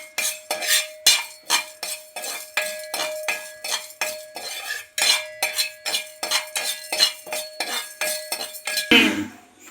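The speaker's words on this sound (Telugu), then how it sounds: "పప్పు దినుసులు వేసుకుందాం. ఇప్పుడు దోరగా వేసుకుందాం." Lentils roasted on a hot iron griddle, stirred with a metal spoon in steady repeated scrapes and clinks, close and clear with no talk, ending in a brief louder clatter.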